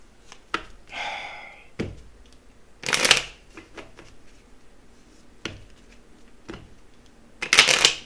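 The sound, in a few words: tarot cards being shuffled and drawn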